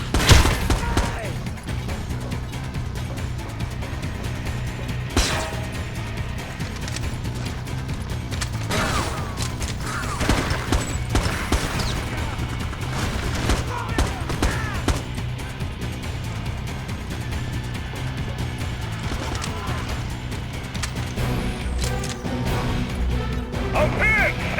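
Heavy gunfire in the Xbox game Ghost Recon Advanced Warfighter, sustained bursts and crashing impacts layered over a constant low rumble of battle, loud and dense with few pauses.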